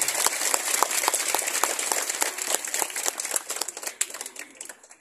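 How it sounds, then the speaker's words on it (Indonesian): An audience claps for President Joko Widodo during a speech by the governor of NTT, a brisk patter of individual claps that thins out and grows sparser over about five seconds. "Kita tepuk tangan buat Bapak Presiden Joko Widodo"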